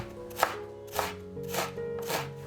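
A knife chops a short length of scallion into fine pieces on a cutting board, four sharp, evenly spaced strikes sounding close and clear with no talking.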